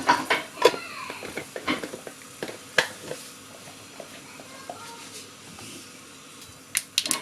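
Mustard seeds spluttering in hot coconut oil in a pan, with urad dal added, giving irregular sharp pops and crackles over a quiet sizzle, bunched early and thinning out before a few final pops.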